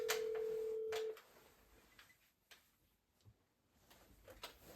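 A telephone ring tone hums steadily for about a second on an outgoing call, then cuts off, leaving a quiet line with faint clicks and handling noise.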